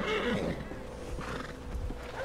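Horses in a video game whinny loudly in a sustained, wavering neigh near the start, with clip-clopping hooves continuing under it on a ranch setting.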